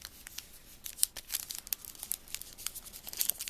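A Topps Archives 2013 football trading card pack wrapper is torn open in a series of close, crinkly rips and crackles, irregular and busy, with no talking.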